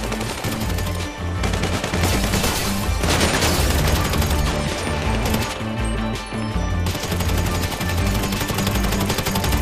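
Dense, sustained automatic gunfire from several weapons in a heist video game, rapid overlapping bursts and impacts filling the mix at loud, near range throughout.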